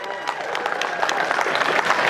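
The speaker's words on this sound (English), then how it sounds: "Please give a big round of applause" A comic con crowd in London, Ontario applauds and cheers as Ernie Reyes Jr., Paige Turco and James Saito are welcomed, dense clapping that swells slightly, with whoops over it.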